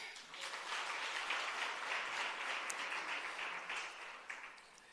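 Audience applause at a hybrid capacity-building workshop and virtual expo, a steady wash of distant clapping from a hall that holds evenly for about five seconds, fairly faint and without talk.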